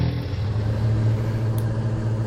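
A truck engine in the VR game Truck Parking Simulator hums and rumbles steadily at idle just after starting, a low continuous drone with no talking.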